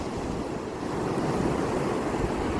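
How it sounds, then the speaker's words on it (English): Ocean waves and surf wash steadily in a continuous broadband roar with wind buffeting the microphone, fairly loud and without voices. "I love those waves."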